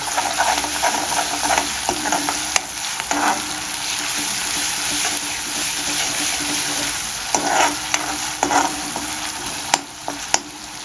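Stone-ground red chilli and masala of poppy seed and coconut fry in a pan for Bombay duck curry: a loud, steady sizzle broken by repeated scraping stirs and short spattering bursts.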